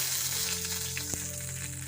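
Tempering spices, garlic cloves, dried red chillies and curry leaves frying in hot oil for a Telangana red chutney; a dense, even sizzle close by, with a low steady hum and a single clack.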